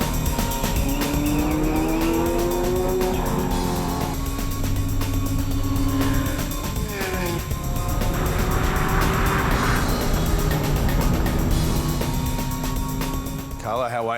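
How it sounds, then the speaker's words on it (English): Several race cars lapping a raceway, one a late-model Corvette-chassis machine, engines droning and whining past with tire squeal, continuous and loud, with people talking over the racing noise. "You've got 3 awesome cars. You're going to do 3 laps of the raceway."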